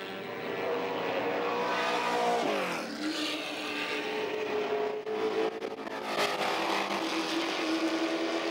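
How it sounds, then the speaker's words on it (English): A Ford GT40 race car with a loud, sustained engine roar, its pitch rising and falling through gear changes as it passes at close range, with no voices. "Bib Stillwell's GT40 in the pits."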